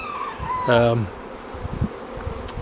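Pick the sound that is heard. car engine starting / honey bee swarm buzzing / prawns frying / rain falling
honey bee swarm buzzing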